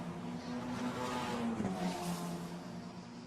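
Formula Renault Eurocup race car at Imola, its engine note rising and shifting pitch as it passes close by on track at full speed, a brief loud whine with a Doppler drop around the middle.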